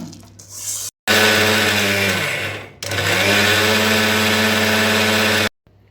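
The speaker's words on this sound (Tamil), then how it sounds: "நான் சாம்பார் பொடிக்கு வச்சது மிக்சியில் போட போகிறேன்" A kitchen mixer grinder whirs loudly as it grinds sambar powder spices, running in two steady bursts separated by a brief pause, with a dipping, straining pitch before the motor cuts off abruptly.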